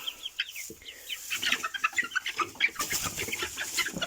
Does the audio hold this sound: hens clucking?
yes